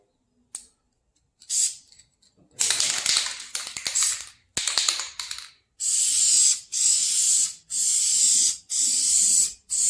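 Aerosol spray paint applied to a Foxbody Mustang hatch, first a few brief sputtering hisses, then a run of regular sustained spray bursts with short gaps between them, close up.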